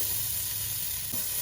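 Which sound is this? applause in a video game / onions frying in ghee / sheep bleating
onions frying in ghee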